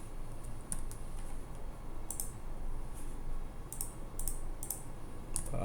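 Someone types on a computer keyboard, with light, irregular key clicks in short clusters over a low steady background hum. The clicks are quiet and close, and no one speaks.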